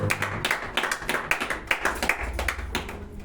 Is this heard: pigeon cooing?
no